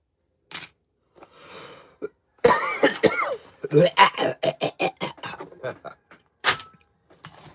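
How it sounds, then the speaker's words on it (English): A burst of harsh, repeated coughing, loud and close, with brief throat-clearing sounds and pauses between bouts. "If I want to cough like that on YouTube, I can cough like that."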